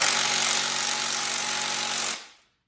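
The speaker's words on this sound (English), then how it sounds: "that's a Milwaukee M18 fuel, probably one of the best impacts I've used, and it is not getting that bolt off" A Milwaukee M18 Fuel impact wrench hammers continuously on a stuck bolt on a 5.3 engine for about two seconds, a loud, dense rattling buzz that cuts off abruptly and leaves silence.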